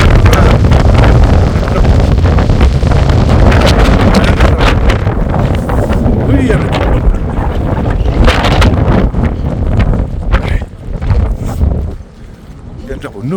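Strong gusting wind off a large lake at Sela Pass in Arunachal buffets the microphone in a loud, continuous roar, with a person speaking over it before the blast eases near the end.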